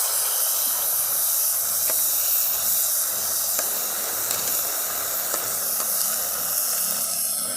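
Cubed potato, papaya and bottle-gourd stems sizzle together in hot oil for a Bengali magur fish curry, giving a steady, loud, even hiss with faint crackles and no talking.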